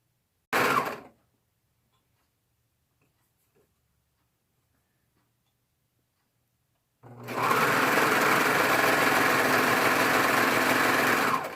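A serger stitching swimsuit fabric makes a short loud burst near the start, then goes quiet before running again steadily and loudly for the last several seconds, close by.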